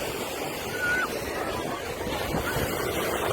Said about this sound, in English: And the waves are choppy.